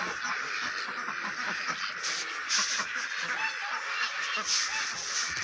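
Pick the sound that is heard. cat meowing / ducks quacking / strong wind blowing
ducks quacking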